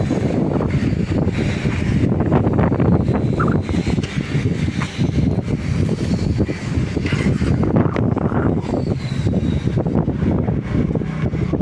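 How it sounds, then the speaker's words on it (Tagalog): Strong, continuous wind buffets the microphone with loud, rumbling gusts throughout, with no talking. "Tinutulak ako ng hangin."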